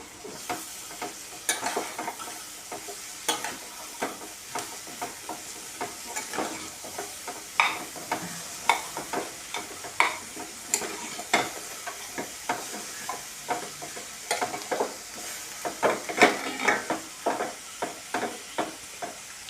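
Cabbage and grated coconut curry is stirred around a hot pan, the spoon scraping in steady, repeated strokes over a constant bright sizzle. The sound is close and clear, with no voices.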